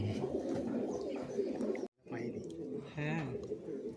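Giribaz pigeons at a home loft cooing softly and close by, low murmuring coos mixed with people talking nearby.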